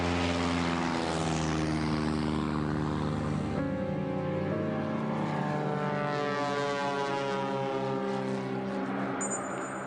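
A Piper Cherokee propeller airplane drones steadily in flight, its engine and prop note loud and continuous, with the pitch gradually sliding lower as it passes.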